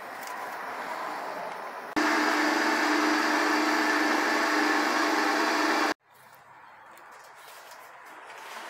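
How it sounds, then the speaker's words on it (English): A vacuum pump drawing transmission oil out through a hose from an A343F automatic transmission, a steady loud droning hum that starts abruptly, runs for about four seconds and cuts off, with quieter workshop noise before and after. "we've got a vacuum pump, so we'll poke a hose in there and just suck a bit of the oil out"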